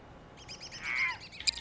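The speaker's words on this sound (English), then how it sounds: "Crows." Crows in Garry's Mod on the construct map give a few faint, thin chirping calls in a short burst, with a slightly stronger cry near the end, over a quiet background.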